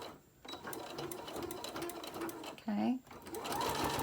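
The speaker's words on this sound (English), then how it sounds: "I just do a straight stitch at first" A sewing machine straight stitches a fabric lanyard in a steady close whirring run, with a brief spoken word over it partway through.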